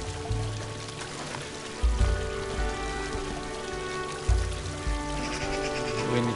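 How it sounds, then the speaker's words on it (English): Water pouring steadily from a fish fountain in the video game Unravel, a continuous splashing trickle laid over a game music backdrop with a few low thumps. "Water's filling up from this fish fountain."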